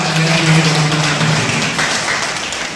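Audience applause fills a hall at a Statistics Day 2024 function in Idukki: dense, steady clapping from a crowd, loud and close, continuing without pause for a few seconds with a low hum underneath.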